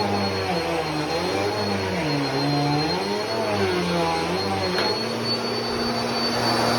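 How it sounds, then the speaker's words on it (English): A Bissell Power Force Compact vacuum cleaner, sounding clogged, runs steadily, its motor drone wavering in pitch as it strains and then settles, with a constant airy whine throughout. "Now, this vacuum actually sounds kind of clogged"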